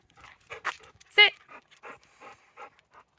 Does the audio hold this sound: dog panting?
yes